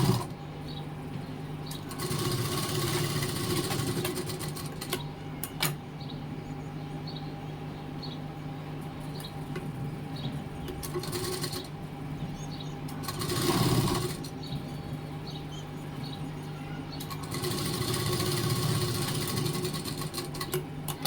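An electric sewing machine runs in long, steady stitching bursts with short pauses while hemming the folded edge of a puff-sleeve blouse sleeve.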